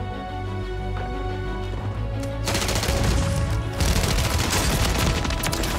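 Shotgun blasts in Warzone boom in a dense, rapid cluster, loud and close, after a quieter stretch of game sound.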